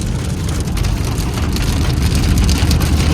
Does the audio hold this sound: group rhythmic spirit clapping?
no